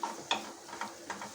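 A utensil stirs kadai chicken in a pan with soft, faint scraping strokes that repeat about every half second over a light sizzle.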